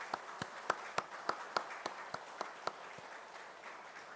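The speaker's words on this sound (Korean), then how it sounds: "우리 힘찬 감사의 박수를 함께 올려드리겠습니다" A church congregation applauds in thanks during a service, heard as evenly spaced, steady claps fading toward the end, somewhat distant.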